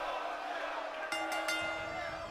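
A Puerto Rican arena crowd in the WWE MyGM wrestling video game roars and chants at a Nakamura versus Owens match, a continuous loud crowd bed broken by a few sharp impact hits partway through.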